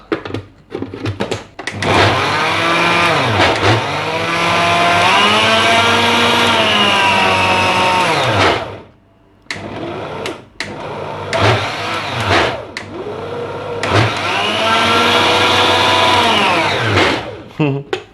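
A kitchen machine grinds figs for fig ice cream and fig milk. It gives two long, loud whirring bursts whose motor pitch sags and bogs under the load, separated by a short pause, with no talk.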